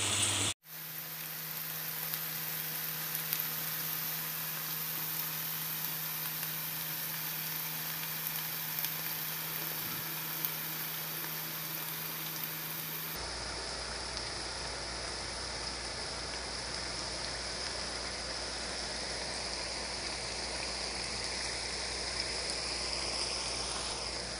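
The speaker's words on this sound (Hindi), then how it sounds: "और इसको अब हम मिक्स करेंगे, लेकिन अभी इसको पकाते रहना है जब तक कि ये बिल्कुल इसके अंदर से पानी खुश्क ना हो जाए।" Grated carrots for gajar halwa sizzle steadily in a pan as their moisture cooks off, a continuous close frying hiss with a brief clatter near the start and a shift in tone partway through.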